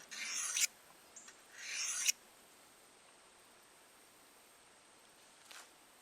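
A Simmons broadhead is drawn across a sharpener in two quick, close rasping strokes. Near silence follows, broken by one faint scrape toward the end.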